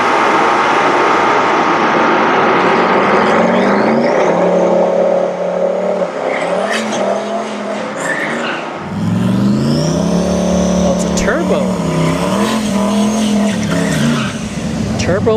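A turbocharged SN95 Mustang doing a burnout at a drag strip, loud and close, with tires squealing hard against a roaring, revving engine that drops and surges again partway through.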